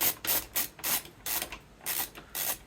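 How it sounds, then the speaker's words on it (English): Screws being driven back into the casing of an original Xbox drive, heard as about six short ratcheting, clicking bursts separated by brief pauses, close and fairly loud with no talking. "now we'll go ahead and just get these screwed back in"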